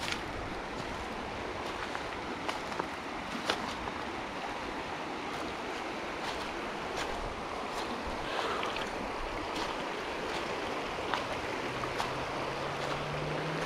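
Cold river water flows and rushes quietly in the background, a soft continuous wash of noise with occasional small clicks and splashes. Outdoors along a riverbank with fallen leaves, heard without talk.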